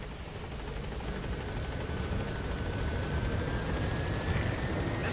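Helicopter flight in the video game Metal Gear Solid V: The Phantom Pain, a steady loud rotor drone with a chopping pulse and faint high engine whine, continuous throughout with no talk.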